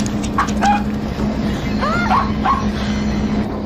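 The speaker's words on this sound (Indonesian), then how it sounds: "jigong milik Ruth tiba-tiba menggonggong ke arah sofa" A pet dog yips and barks a few times in short bursts toward a sofa indoors, with a steady background hum under the sound.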